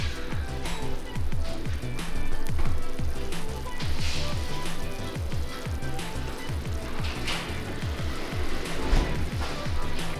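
A meat and cheese dish with tomatoes and green peppers sizzles in a restaurant in Antalya, Turkey, giving a steady crackling hiss with faint clatter in the background.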